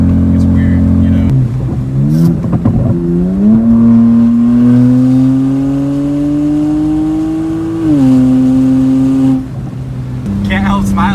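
A BMW 335i with the N54 engine and a straight-piped exhaust run from the turbo back, revved loudly and held through long rising and falling sweeps, with brief pauses and a few quieter moments between pulls.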